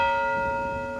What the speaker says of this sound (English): the bells are going off right now.